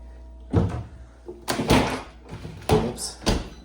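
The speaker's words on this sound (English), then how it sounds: "That's a tough drawer to get into because of the dishwasher." A stiff kitchen cabinet drawer, hemmed in by an adjacent dishwasher in an older house near downtown Santa Fe, is tugged open in a series of sharp wooden thunks and knocks, several separate bumps close by.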